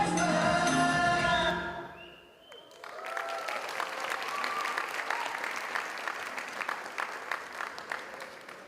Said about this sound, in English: Let's give her one big round of applause once more.